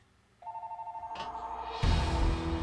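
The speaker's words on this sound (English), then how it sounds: "phone call." A phone rings for an incoming call with a steady, repeating electronic tone that starts faintly, then louder game sounds burst in over it midway.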